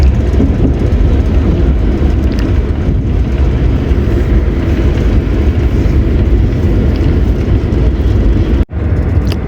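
A Green Line Express train rolls over a railway bridge above a drain between Rawalpindi and Margalla, a loud, continuous low rumble of wheels and carriage noise heard from on board, with a brief sharp dropout near the end.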